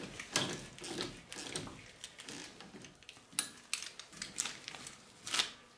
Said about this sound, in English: put our 6 millimeter Allen head bolt back in,